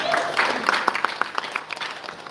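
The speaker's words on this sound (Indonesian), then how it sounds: "berikan tepuk tangan yang meriah untuk kita semua" Applause from a studio audience at a Quran quiz show in Padang, a broad crackling wash of clapping filling the short clip with steady density.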